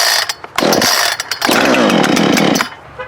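A new Jonsered CS 2255 chainsaw starts up with a loud, close roar that surges and revs in bursts, dips briefly, then runs steadily before falling off, with no talking.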